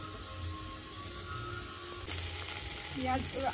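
Onions and diced potatoes fry in a pan with a soft steady sizzle, growing louder and fuller partway through as the potatoes go in, then a few stirring clanks near the end.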